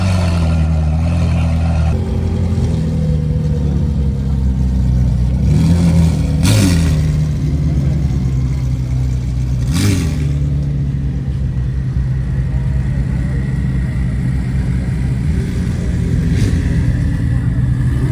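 Lamborghini at an exotic car meet in Dallas, a deep steady engine rumble with a couple of brief rev blips, loud and nearby amid outdoor crowd noise.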